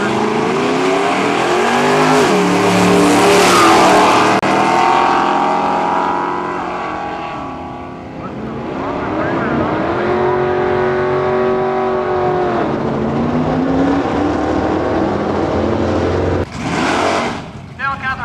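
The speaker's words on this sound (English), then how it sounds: "540 cubic inches of big block Chevy under the hood of the Laguna" A Chevelle Laguna drag car with a 540 cubic inch big block Chevy and another car with a 350 roar off the line at the Ontario Nostalgia Drag Racers event in Cayuga, engines revving hard and fading, with an announcer talking over them.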